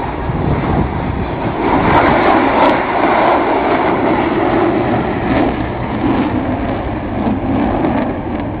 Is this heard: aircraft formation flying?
yes